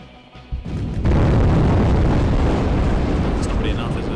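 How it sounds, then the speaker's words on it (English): A gas line blows up in the video game Atom Zombie Smasher: a quiet moment breaks into a sudden loud boom that swells into a sustained, roaring rumble lasting several seconds. "So we can pull more zombies over to this gas line explosion thingy."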